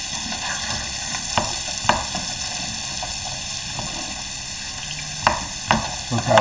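Bacon and vegetables sizzle steadily in a pot while a shrimp bisque is being started, a constant frying hiss with occasional sharper pops and stirring knocks near the end.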